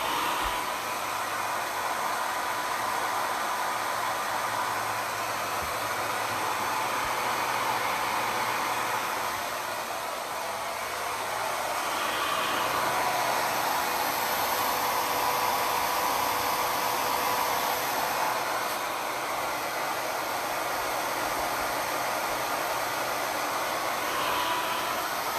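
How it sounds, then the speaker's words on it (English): A blow dryer fitted with a diffuser runs steadily for about 25 seconds, drying hair and setting hairspray, a loud continuous airy roar up close with only slight shifts in intensity and no talking. "use my blow dryer with a diffuser to heat and"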